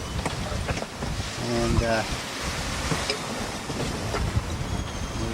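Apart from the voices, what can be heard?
strong wind at sea while sailing downwind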